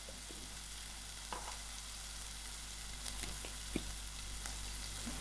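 Tomato and ground pepper frying in a pan for a mildly spiced chickpea soup, a faint, steady sizzle with a few soft clicks of the pan, no talking.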